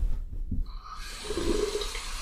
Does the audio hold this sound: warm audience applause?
no